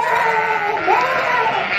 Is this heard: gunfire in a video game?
no